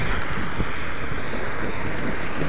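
Cold spring wind outdoors in Edmonton buffets the microphone in a steady, loud, roaring rush that fills the entire stretch without pause.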